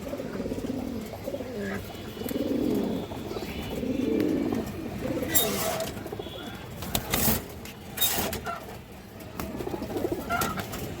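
Pigeons cooing close by, soft throaty coos rising and falling in the first half, followed by scattered sharper wing flutters and movement noises, with no talking.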